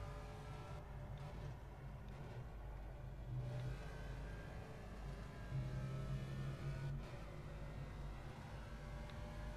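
A race car engine in the Project CARS racing game drones steadily under load with mild rises in pitch as it revs, a continuous faint mechanical hum with no talk.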